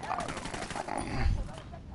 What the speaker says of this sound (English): we're getting shot again